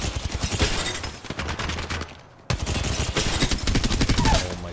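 Rapid automatic gunfire in the battle royale game Apex Legends, dense bursts of shots crackling nearly continuously, a brief lull around midway, then another loud sustained volley.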